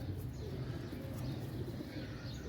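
Domestic pigeons coo in a low, steady murmur, close by and continuous, with soft rumbling calls blending together and no voices over them.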